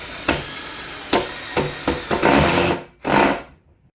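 Screws are driven into wood to fix legs, made from a 2x4, to a base with a power driver in short, close, buzzing bursts of whirring, separated by brief pauses, and no one talks.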